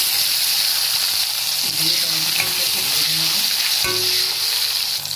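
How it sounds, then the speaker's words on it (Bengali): Chopped tomatoes frying in oil with dried red chilies and nigella seeds for a Bengali rui fish curry, a loud continuous hiss with low clanks and scraping, and a sharper knock near the end. "নুন দিয়ে একটু ভেজে নেবো টমেটোগুলো"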